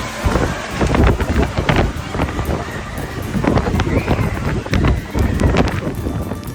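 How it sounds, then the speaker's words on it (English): Strong gusting wind on Bald Head Island roaring and buffeting the microphone in loud, uneven surges with scattered clattering knocks throughout. "strong winds sent furniture flying"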